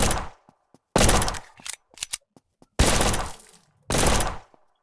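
Gunfire in a mobile zombie apocalypse shooter game comes as four loud, close bursts of rapid automatic fire, with scattered single shots and clicks in the gaps and no voices.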